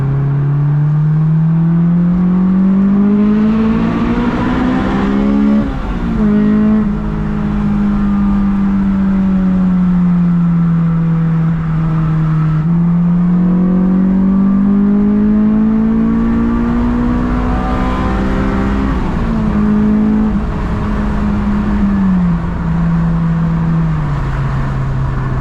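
A Honda S2000 with full bolt-ons, header and exhaust revs hard into VTEC, its loud engine note climbing in pitch, easing off, then climbing again in long sustained pulls with no talk.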